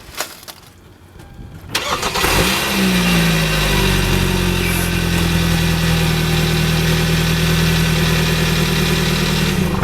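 A 2011–2015 Kia Sportage engine cranks and starts after about two seconds of quiet, then runs steadily at a loud, close idle with a low rumble until the end.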